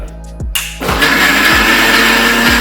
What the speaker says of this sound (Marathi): अशा प्रकारे मिक्सरमध्ये फिरवून ही स्मूदी तयार झाली आहे